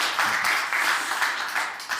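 Audience at a World Economic Forum annual meeting panel on technology and pollution applauds the panelists, a loud, close, continuous clapping that pulses slightly and dips briefly near the end.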